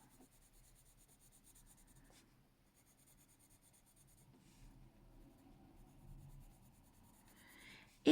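A light coloured pencil moves across paper on a colouring book page, making a soft, faint scratchy rubbing that comes and goes in short strokes, close and quiet with no voice.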